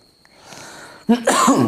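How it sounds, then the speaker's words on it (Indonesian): A single sharp, harsh cough, caused by spicy chili sambal fumes during cooking, breaks out suddenly after a near-silent pause, close and loud. "istriku bikin sayur jadi batuk-batuk, ini lagi bikin sambal untuk persiapan buka puasa"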